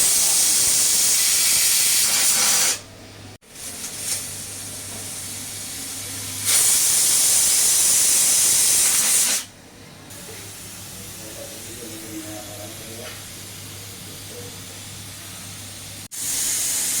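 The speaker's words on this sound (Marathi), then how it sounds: "इथे आपण कुकरचं झाकण लावून घेऊया आणि 2 ते 3 शिट्ट्या करून घेऊया" A pressure cooker cooking dal khichdi on a gas stove, whistling and venting steam in loud, harsh hissing bursts that cut off abruptly, with quieter steady hiss between them.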